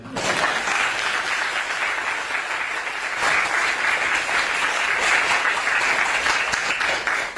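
An audience applauds during a political lecture on youth leadership given by a prime minister: sustained, dense clapping from many hands that swells slightly and carries on for several seconds with no gap.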